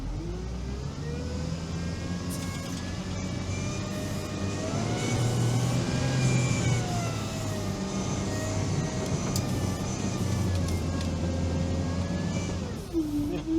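A Veter all-terrain vehicle's engine drones steadily as it drives through thawed mud, a continuous close rumble with rising and falling whining tones as it works through the slippery ground.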